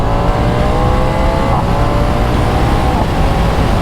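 Steady engine drone from a Ducati Diavel V4 motorcycle climbing through the revs while riding, heard under heavy wind rush with gentle pitch shifts around gear changes.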